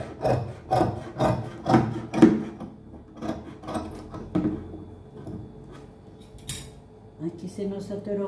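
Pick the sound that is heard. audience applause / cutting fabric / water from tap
cutting fabric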